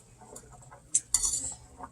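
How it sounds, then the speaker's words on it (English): A utensil stirs pasta in a pot of boiling water, soft scraping with two sharp metallic clinks against the pot, close and fairly quiet, with no talk. "you can start stirring it around and let it start bending into the pot to fit into the pot"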